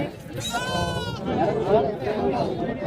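Goat kids and lambs bleating amid a busy crowd at the Kunnathur livestock market during the Thai Pongal sale, several overlapping cries close by under steady chatter and talk.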